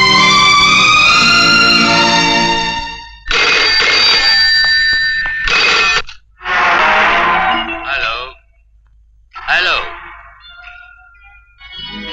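A telephone rings loudly in a dramatic Hindi film scene, its electronic bell sounding in bursts that alternate with stretches of spoken dialogue.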